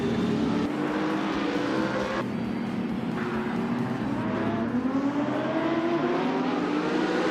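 Race cars roar around the track in a close, continuous engine drone, with rising and falling pitch as the cars accelerate and pass in a tight pack.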